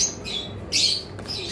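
Yellow-sided conure parrots give a few short, shrill squawks in quick bursts, close by and fairly loud, with no talking.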